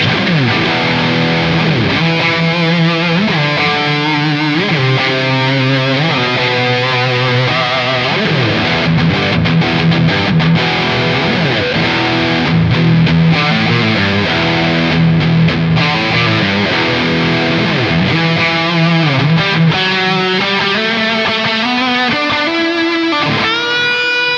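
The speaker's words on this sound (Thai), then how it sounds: "คลิปนี้ผมจำลองเสียงแตกจากหัวแอมเม" Heavily distorted electric guitar with single-coil pickups plays loud, sustained chords and bending notes through an amp simulating Mesa amp-head overdrive, continuous and without pauses.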